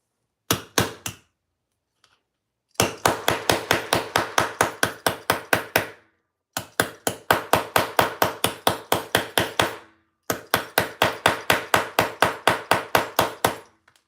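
Rapid bursts of loud, sharp hammer blows cutting holes through thick material, in quick steady rhythm, grouped into several long runs separated by brief pauses, with no talking.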